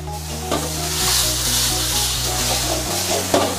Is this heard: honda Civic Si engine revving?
no